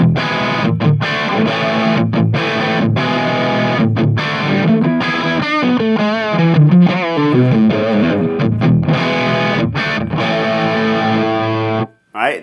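An electric guitar through a Plexi-style pedal at maximum gain plays a loud, saturated distorted riff with ringing chords and quick picked notes, continuous and close, stopping abruptly near the end.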